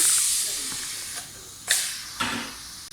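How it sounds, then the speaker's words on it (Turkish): Air hisses from a compressor line into a Bajaj Pulsar motorcycle tire, a steady close hiss with a few sharper surges as the chuck is pressed on. "Havasını şişiriyor."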